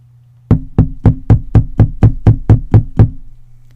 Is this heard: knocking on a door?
yes